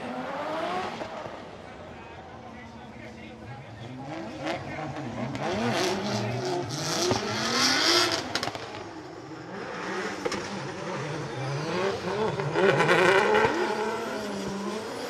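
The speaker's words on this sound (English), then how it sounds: "It's Benjamin in the A90 Supra, another wild driver." Drift cars, including a Toyota A90 Supra, race at a Formula Drift Japan 2024 event, engines revving and surging with tire noise, moderately distant under continuous commentary and crowd ambience.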